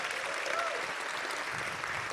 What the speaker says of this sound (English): And again, another round of applause for a very great human being.